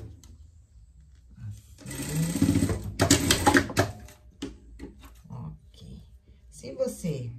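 A sewing machine stitches elastic and ribbing on a girl's panties in a couple of short, close bursts, with someone talking before and between them.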